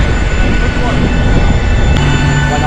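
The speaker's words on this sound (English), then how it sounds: "and there's the plane." An airplane at Hamburg airport produces a loud, steady engine roar and broad rumble that holds constant throughout.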